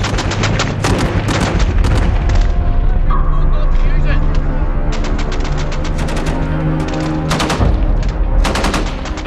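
Heavy gunfire during fighting in Helmand, Afghanistan: loud, close bursts of automatic rifle and machine-gun fire in rapid repeated volleys with booming shots, continuous and dense throughout with no clear pauses.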